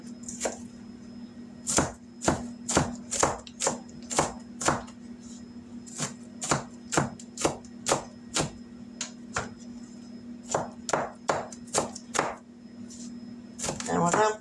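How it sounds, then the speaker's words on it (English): A knife chops onions on a cutting board for a Tex-Mex casserole, with a steady run of sharp, close taps that pause briefly and resume, over a constant low hum. "And when I'm cooking with onions, I want them chopped up little pieces."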